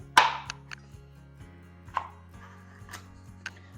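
Knife chopping potatoes on a cutting board, a few sharp, close knocks spaced unevenly with a steady low hum underneath.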